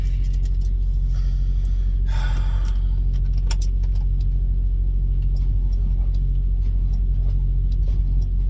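Lease-operated semi truck at a fuel stop cranking repeatedly without starting, a steady low rumbling drone with brief rattles and clicks over it.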